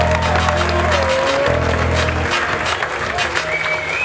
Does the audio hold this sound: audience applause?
yes